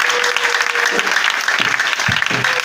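A church congregation bursts into steady, dense applause, many hands clapping together close by with a few scattered voices in the mix.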